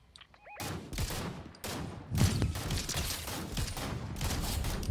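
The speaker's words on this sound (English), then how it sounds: "I saw them shooting at each other." Repeated bursts of video game gunfire crack out loudly, volleys overlapping into a dense fusillade with short gaps between them.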